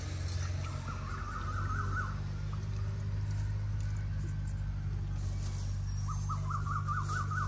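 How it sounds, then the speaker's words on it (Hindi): A koel calls twice in a rural village setting, its rising repeated whistled notes fairly distinct at a moderate distance, separated by a quiet gap over a steady low hum. "कोयल है ये, बुलबुल नहीं है।"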